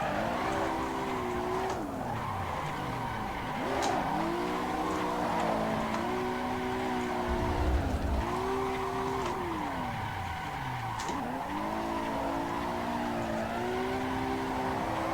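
A car drifting in the Assetto Corsa racing game, its engine droning steadily and rising in pitch through each gear before dropping on the shifts, with occasional tire squeal over the whole stretch.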